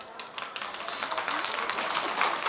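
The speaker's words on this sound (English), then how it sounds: "please give him a round of applause" Applause for a donor who gave money and medical supplies to support Wuhan, at a Chinese community gathering; a dense, steady patter of many hands clapping throughout, moderately loud and continuous.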